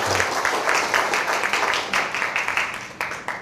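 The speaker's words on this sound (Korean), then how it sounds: "박수 한번 주십시오." A business-leadership lecture audience claps in a dense, steady burst that slowly tapers off, fairly close and loud with no talking over it.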